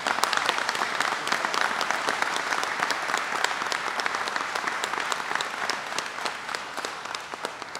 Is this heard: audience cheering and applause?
yes